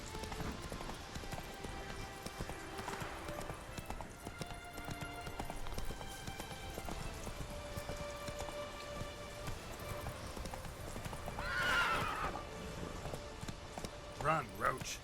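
Hooves of a horse galloping in The Witcher 3, a steady rapid clip-clop over a rainy outdoor soundscape, with talk on top.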